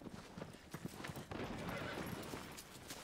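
A horse in Shadow of the Colossus walks with a steady, fairly quiet clip-clop of hooves over ambient wind and background game noise.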